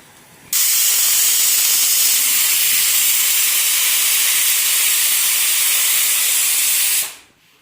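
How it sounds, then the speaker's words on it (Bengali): A pressure cooker of potatoes vents a loud, continuous steam hiss that starts abruptly, holds steady for about six and a half seconds, then fades out. "তো এখানে প্রেশার কুকারে আলু বসাইলাম"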